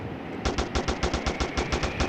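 Rapid automatic gunfire rings out in a gangster crime video game during a shootout with police, a burst of roughly a dozen evenly spaced sharp shots after a short pause, fairly close and clear with no talking.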